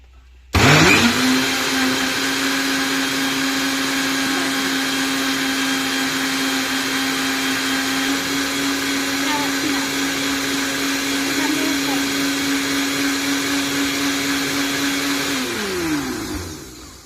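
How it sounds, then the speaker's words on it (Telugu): A mixer grinder churning butter switches on abruptly and runs with a loud, steady whirring hum for about fifteen seconds, then winds down. "పదండి మిక్సీ పెట్టాలి"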